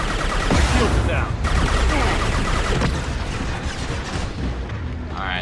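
Gunfire in Mass Effect 2, a dense, loud stretch of shots and booming impacts rolling over one another in a busy firefight, with a voice occasionally cutting in.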